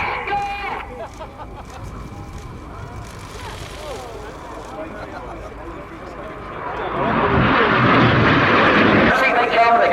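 Aerobatic display jets trailing coloured smoke roll around a synchro pair at the Royal International Air Tattoo, a distant jet roar that swells loudly toward the end beneath steady commentary over a public address.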